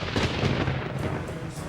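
Thunder plays as a sound effect on a French television game show, a loud rolling rumble with a sharp crack near the start that fades slowly, with no talking.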